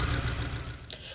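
Close, uneven engine note of a BAIC X25 with a misfire, a rough pulsing idle with irregular stumbles and a brief sharp click near the end.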